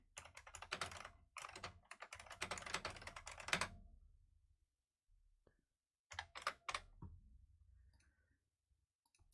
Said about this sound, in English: You can probably hear this keyboard just clacking away.